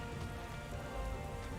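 Rain falls in the video game Castlevania: Lords of Shadow, a steady, full hiss of drops hitting surfaces with no speech over it.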